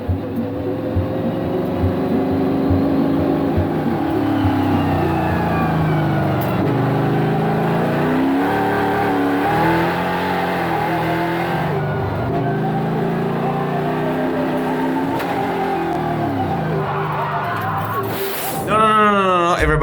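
A EuroNASCAR race car on worn, finished tires during free practice at the Valencia circuit: a loud, close engine note climbs and falls through repeated gear changes, with voices in the background.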